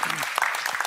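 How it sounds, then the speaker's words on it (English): Audience at a fundraising workshop gives a brief burst of applause, a short dense clatter of many hands filling less than a second. "Give him a big round of applause."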